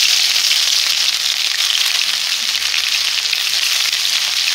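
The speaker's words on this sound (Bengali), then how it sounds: "তেলটা গরম হয়ে গেছে, একটু আদা দিয়ে দিলাম" Grated ginger fries in hot oil in a wok, giving a loud, steady, close-up sizzle that holds evenly from start to finish with no voices.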